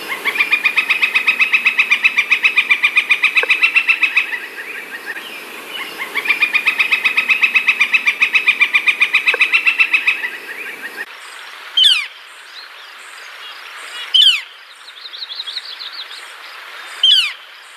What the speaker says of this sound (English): they have a loud rolling rattle call that varies in volume